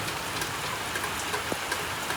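Steady unseasonal evening rainstorm pours down with a broad hiss, a few louder drops standing out now and then, no voices.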